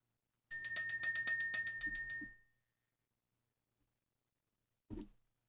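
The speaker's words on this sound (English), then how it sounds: "We're going to ring the bell." A small bell rung to clear energy in a spiritual session gives a quick run of about a dozen bright, ringing strikes that decay, followed by silence and a faint soft bump near the end.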